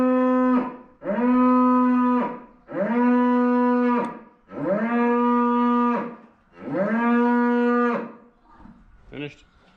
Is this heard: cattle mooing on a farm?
yes